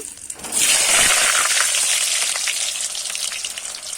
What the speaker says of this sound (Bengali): ওই তেলেতেই কিন্তু আমি আলুগুলো ভেজে নেব